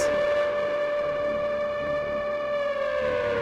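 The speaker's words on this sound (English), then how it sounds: "Here come the sirens." A video game siren blares in one sustained, steady wail, loud and close, its pitch holding level before sagging slightly at the end, with no talking over it.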